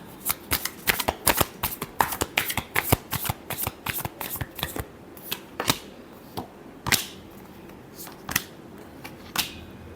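Tarot cards are shuffled by hand in rapid crisp riffles, a dense flurry of snapping clicks that thins into slower separate taps toward the end, close and clear with no talk.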